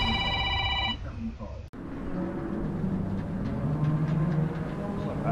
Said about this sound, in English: That guy's got a call.